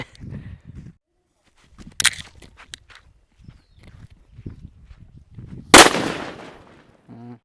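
A sharp, loud bang from a firecracker cracks out near the end with a brief crackling tail, preceded by a few smaller pops amid faint shuffling and low murmurs.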